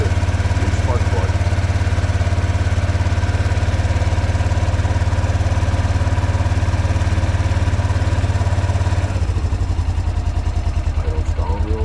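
An ATV engine with a freshly replaced spark plug idles steadily and close up, a dense low rumble that drops to a slower, looser idle near the end.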